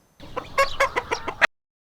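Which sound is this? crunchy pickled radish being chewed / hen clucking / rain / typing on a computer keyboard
hen clucking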